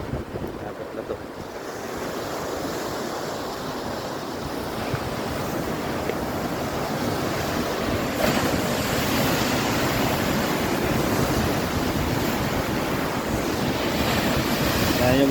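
Ocean waves surge and crash continuously against a rocky shore, a steady loud roar of surf with wind buffeting the microphone throughout.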